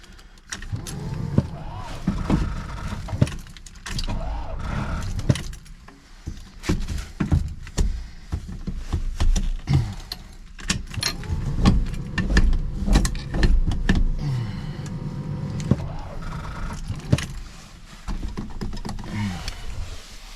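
A gold 1974 Plymouth Duster's engine cranks over and over without catching, a steady run of rough mechanical turning with brief pauses between attempts, close and fairly loud.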